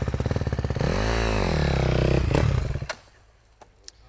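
KTM or Husky dirt bike engine revving hard while riding through a corner, loud and close, a rapid pulsing bark rising into a sustained high-pitched wail before cutting off abruptly, followed by faint clatter.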